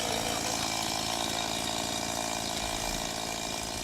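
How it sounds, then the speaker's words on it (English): Loud chainsaw buzz from river cleanup work in Bali, a continuous high-revving engine whine that stays steady and close throughout, with no talking. "Now they're out here every day attacking these rivers with sickles, with chainsaws, whatever they've got."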